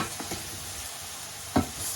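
Couscous and frozen vegetables being stirred in a pan, with soft scraping and faint sizzling throughout and a few louder spoon knocks near the end.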